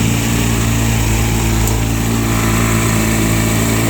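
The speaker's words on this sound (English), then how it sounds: "the motor's been running for a while now" A 2-stroke outboard motor, warmed up and running in gear, drones loud and steady close by with a constant buzzing whine and no pauses.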